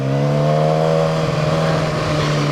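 Suzuki GSX-R sports motorcycle being ridden, a loud, steady close engine drone holding an even pitch throughout, with no talking.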